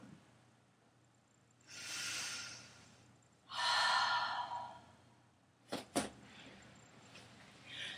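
Slow breaths during a Pilates stomach curl: two long, soft breathy passes, then a couple of short sharp sniffs or snorts near the end, close and quiet.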